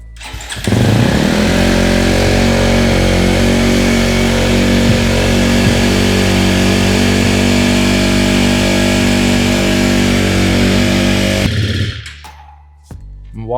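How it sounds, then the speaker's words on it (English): A KTM dirt bike engine, freshly refilled with oil, idles steadily and loudly at close range for about eleven seconds before cutting off, leaving a short quiet tail. "I will now warm the bike up for a good 5 minutes to let all the engine oil run around the engine"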